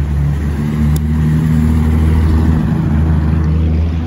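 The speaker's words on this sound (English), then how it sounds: "Okay then, McLaren Senna." A McLaren Senna supercar's engine holds a loud, steady low droning note outdoors in Alderley Edge, sustained throughout without pauses.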